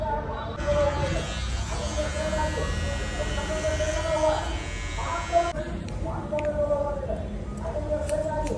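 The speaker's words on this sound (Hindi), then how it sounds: "फेस के हिसाब से पूरा मैं पहले तो क्लीन शेव करवा लूँगा" An electric razor buzzes in a barber shop during a clean shave, a steady mid-pitched drone that swells and dips as it moves over the face, with people talking underneath.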